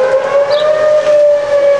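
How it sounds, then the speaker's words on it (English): A civil defense siren sounding a tornado warning, one steady loud tone holding without break, close and alone with no voices. "and then the siren goes off"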